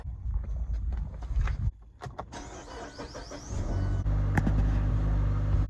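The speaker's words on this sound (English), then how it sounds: "let's go for a quick test drive" A 2016 Mazda 3 with newly replaced rear coil springs and shocks heads out on a test drive: a few clunks, then the engine rumbles up and runs steadily, loud and close inside the car.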